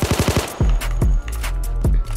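Gunfire in a video game shootout: a rapid burst of automatic shots, then several heavy single blasts spaced apart, loud and close.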